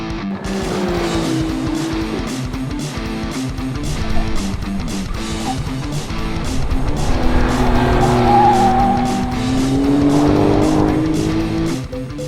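A Porsche 911 Carrera GTS is driven hard on Killarney Raceway near Cape Town, its engine roaring steadily with rising and falling revs and tire squeal, loud and close, with no talking.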